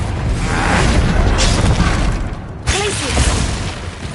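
A Confringo fire spell bursts in a booming blast during combat in the video game Hogwarts Legacy, a loud, rumbling explosion that swells, cuts off sharply, then erupts again with crackling debris.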